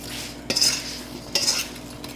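Apple pie filling and spices get mixed in a bowl, with two distinct scraping strokes of a utensil, each a short bright swish, close and fairly loud, and a quiet pause between them.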